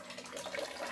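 Sugar wash for moonshine draining from a fermenter's drain tap near the end of a roughly 20-litre batch, a soft, steady trickling splash, faint and close with no talk.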